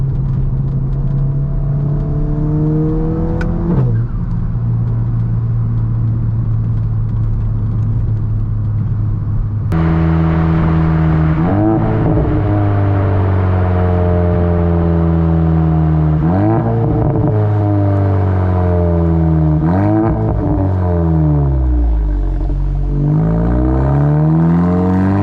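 A straight-piped VW Golf MK7 GTI engine drones loudly from close by, its exhaust tone climbing and dropping through several half-throttle gear shifts with no talking.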